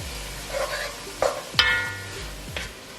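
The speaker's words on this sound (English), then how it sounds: "next I'm going in with my minced garlic. Make sure you keep stirring it, you don't want it to burn." Minced garlic being stirred in a pot on medium-high heat, a soft sizzle under several scraping strokes and a few light clinks of a utensil against the pot, with no talk.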